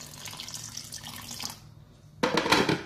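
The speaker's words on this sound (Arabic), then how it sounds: "ندير عليها كمية تاع الماء يكون دافي" Warm water poured into a well of flour holding an egg for Turkish-style pizza dough, a close, steady splashing trickle that fades to near silence and then returns louder and brighter.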